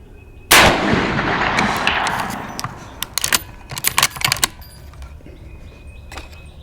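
A single loud, close .444 Marlin rifle shot on an outdoor range booms and rolls off in a long echo, followed by a quick series of sharp metallic clicks and rattles.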